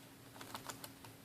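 Typing on an Acer Aspire V5 laptop keyboard with thin, well-spaced keys: a quiet run of light, irregular clicks over a faint hum.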